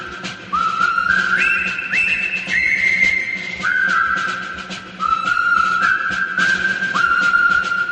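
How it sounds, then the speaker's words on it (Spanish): A person whistles the Colonel Bogey military march, a clear, loud solo melody of sliding, sustained notes with short breaks between phrases. "qué tiene que ver este silbido y esta marcha militar, que es una marcha militar conocida"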